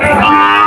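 A calf at a cattle market lets out a single loud, close moo, short and sustained, heard on its own.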